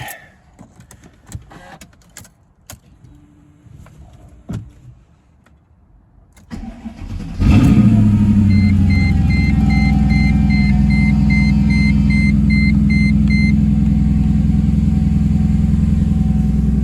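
A Mercedes C55 AMG starts on a cold, snowy day, the starter catching after a quiet stretch of small clicks, then the V8 settles into a loud, steady fast idle that fills the rest of the clip.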